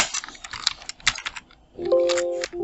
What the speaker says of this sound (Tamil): டிஎம்இ நம்ம டைப் பண்ணியாச்சு.